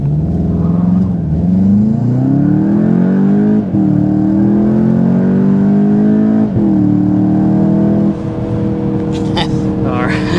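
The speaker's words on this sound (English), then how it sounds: "that was an acceleration without sport mode, or without the launch control" A 2025 Volkswagen Jetta GLI accelerates hard in normal mode without launch control, its engine note rising steadily through several gears with brief dips at each shift, loud and close from inside the cabin.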